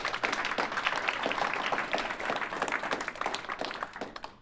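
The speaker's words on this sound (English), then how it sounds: "let me hear some really good applause." Studio audience applauding at a recorded campus talk show, a dense, steady wash of many hands clapping close up for about four seconds, tapering slightly at the end with no talk over it.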